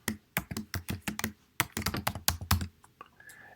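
Fingers type a project title on a computer keyboard, sounding as close, crisp bursts of rapid key clicks that stop briefly and then resume in a second quick run. No one speaks.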